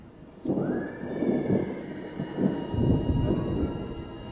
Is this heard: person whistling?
no